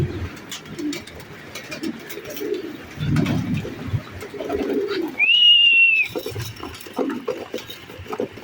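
Pigeons being fed indoors on a rainy day coo in low, repeated murmurs close by, with a brief higher whistling call midway and light shuffling and pecking noises around them.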